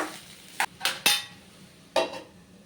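A spoon stirs banana stem thoran in a pan, giving four sharp, separate clinks and scrapes against the metal with quiet pauses between.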